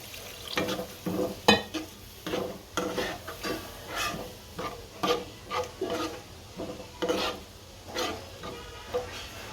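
Milk added little by little to a pasta sauce of flour, stirred in a pan, gives repeated rhythmic scraping and sloshing strokes at close range with no talking.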